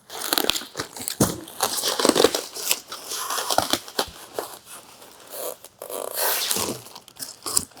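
Styrofoam packing peanuts rustle and crunch in a cardboard box as hands dig through them, giving a busy stretch of squeaky crinkling and scraping bursts.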